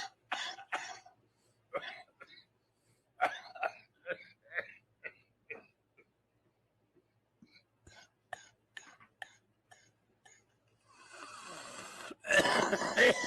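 Someone imitating a person coughing, with scattered breathy coughs and throat sounds fairly close and faint, separated by pauses, ending in a louder noisy rush.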